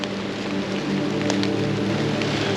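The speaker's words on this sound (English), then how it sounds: "because it's raining so much" Heavy rain falls in a steady, close, dense patter on surfaces, continuous and unbroken, with occasional brighter drop impacts and no voices.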